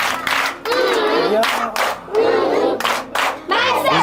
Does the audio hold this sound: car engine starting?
no